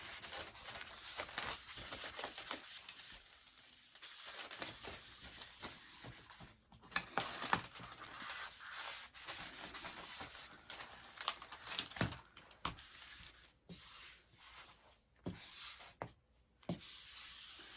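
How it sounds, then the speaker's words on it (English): A felt-edged squeegee pressed over vinyl on a photo print makes soft rubbing and swishing strokes, broken by faint crinkles and sharper scrapes, close and quiet with gaps between passes. "So I'm going to use the squeegee and make sure we don't got no lumps or bumps."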